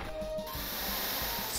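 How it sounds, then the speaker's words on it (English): A Water Gun attack in an old-school Pokémon video game, a short, steady spraying hiss lasting under two seconds, close and moderately loud, with no talk. "Good water gun."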